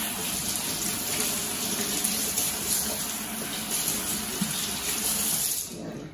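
A kitchen tap runs steadily while potatoes are washed under it, a constant close splashing gush that quiets at the very end, with no talk.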